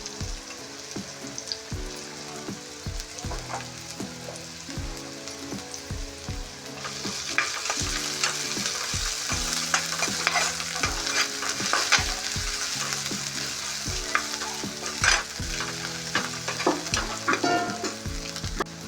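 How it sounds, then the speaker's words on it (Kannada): Ginger garlic paste sizzles and fries in a pan with onions, a steady close hiss that grows louder after a few seconds while a spoon stirs and scrapes in repeated clanks throughout. "ಹಾಗೆ ನಾನು ಇದಕ್ಕೆ ಈಗ ಶುಂಠಿ ಬೆಳ್ಳುಳ್ಳಿ ಪೇಸ್ಟ್ ಹಾಕೊಳ್ತಾ ಇದ್ದೀನಿ"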